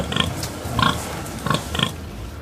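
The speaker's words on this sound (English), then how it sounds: "I choose pig." Four short pig grunts and oinks in a steady rhythm, close and clear, with quiet pauses between them.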